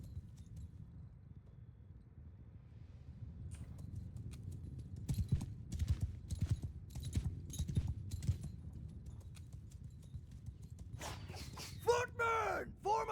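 Cavalry horses in Mount & Blade II: Bannerlord approach with a dense, drumming clatter of hooves rising over a low rumble, joined near the end by sharp whinnies and shouting voices.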